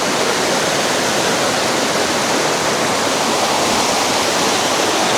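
River water rushes steadily along the riverbank in Lembah Harapan, Mojokerto, a loud, continuous broadband roar with no voices.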